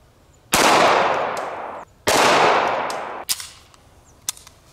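Two loud, close gunshots from a Smith & Wesson 1911 firing 230-grain full metal jacket .45 ACP rounds at a steel plate, each with a long ringing tail, followed by a few faint clicks.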